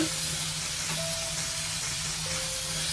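Chopped onions fry with sugar in a pan for Afghani biryani, giving a continuous dense sizzle and hiss close up, steady throughout with faint tonal hum beneath and no talking.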